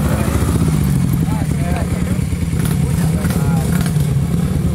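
A trail motorcycle engine revs loudly and close on a dirt trail ride, a constant throbbing drone with rising throttle pulls, while people shout and talk over it.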